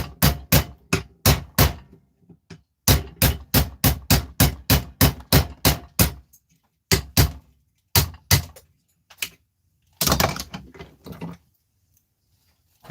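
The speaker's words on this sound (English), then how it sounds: "So what I'm going to do is I'm going to get a hammer and a chisel." A hammer drives a chisel into a frozen piece held in a vise, producing sharp, close metallic strikes in rapid runs broken by short pauses, then a few scattered blows and a scraping burst near the end, with no talking.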